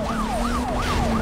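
Police car siren from the racing game NFS Most Wanted, a loud continuous wail sweeping up and down in repeated cycles over a steady engine drone.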